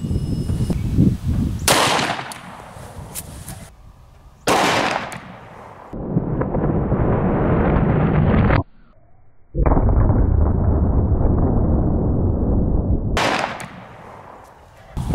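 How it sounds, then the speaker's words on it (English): A 10mm pistol fires 180 grain hollow point rounds into ballistic gel outdoors, several loud sharp reports with sustained roaring stretches between them, close and harsh, no talking. "We're going to shoot the 180 grain hollow point and then the 200 grain hollow point."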